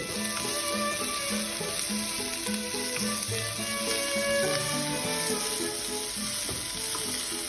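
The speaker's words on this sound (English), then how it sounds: "If it's under medium flame, you can easily fry them." Tomatoes frying in a kadai over a medium flame give a steady, close, crackling sizzle that holds evenly throughout with no talking.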